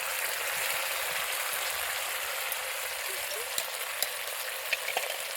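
Red chili sauce goes into Gobi Manchurian, cauliflower frying in a hot pan, over a loud, steady, close sizzle with a few faint clicks and taps near the end.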